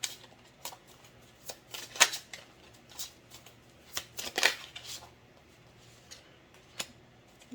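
A deck of tarot cards is shuffled by hand in a quiet room, giving soft irregular riffles and flicks with a few sharper slaps spread across the stretch, fairly close and moderately quiet.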